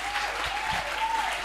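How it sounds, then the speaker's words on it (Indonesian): A seminar audience at an Islamic boarding school claps together, a dense, steady patter of many hands that stays even for the whole moment, with a faint voice underneath. "Tepuk tangan untuk kita semua."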